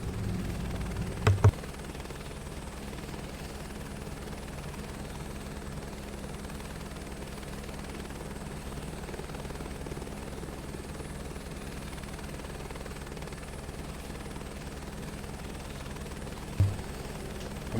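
A helicopter in Flight Simulator 2024 drones with a steady turbine whine and rotor hum, engine set toward 75 percent throttle, constant and moderately loud, with a couple of brief clicks near the start and end.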